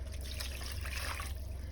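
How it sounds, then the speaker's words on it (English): Water trickles steadily into an Instant Pot holding rice for homemade dog food, a soft continuous pour with no voices. "we're going to want to add 2 cups of water to this before cooking"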